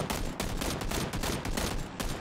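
Rapid bursts of M16 rifle fire in the battle royale game PUBG during a competitive esports match, dense overlapping shots crackling continuously and loudly for a couple of seconds.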